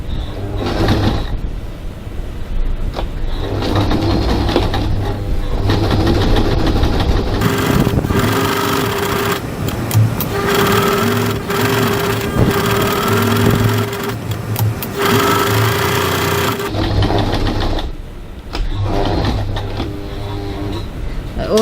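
A sewing machine stitches around a fabric bag flap at a 3.5 stitch length, a loud close mechanical whir running in several bursts with short pauses between them.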